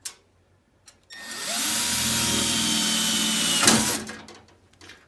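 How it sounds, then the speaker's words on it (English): An electric drill bores a 1/8 inch hole on a hot rod for a brake line clamp: a short click, then a loud, steady high whirring grind held close for about three seconds before spinning down. "So drill a 1/8 hole"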